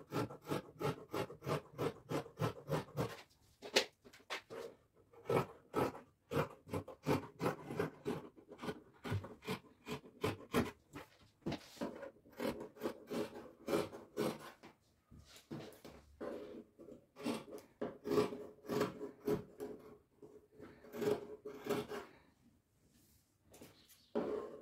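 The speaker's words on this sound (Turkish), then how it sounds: "Ve şimdi hemen tişörtü kesiyorum." Scissors cut through t-shirt fabric in a quick run of crisp, evenly spaced snips, close and fairly quiet, pausing briefly before the rhythmic cutting resumes.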